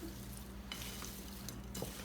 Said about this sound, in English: so now we're just going to kind of stir it all up here